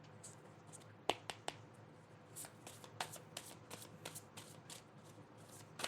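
Tarot cards being shuffled by hand, a quiet run of crisp riffling flicks and sharp snaps, a few louder clacks near the start and scattered soft shuffles throughout, with no talking.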